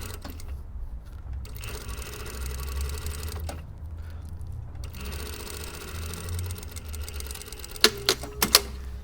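Sewing machine running a pin-stitched open seam, a steady mechanical whir close by with brief pauses, ending in a few sharp clicks from a back tack.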